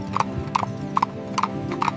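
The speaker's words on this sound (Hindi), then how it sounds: "अब गाइज यहाँ से हमारी घोड़े की सवारी शुरू होती है।" Horse hooves clip-clop in a steady, even rhythm during a desert horse ride in Egypt, each step a sharp double knock, close and clear with a low background hum.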